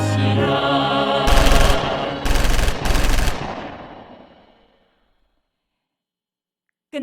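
Loud bursts of rapid gunfire in a staged documentary music drama about the March First Movement, three volleys in quick succession over a rumbling background, then a long fading decay into silence.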